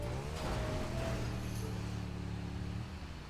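A car engine revs in the GTA 5 video game, a steady droning hum that rises in pitch and then eases off, fairly quiet with no talk over it.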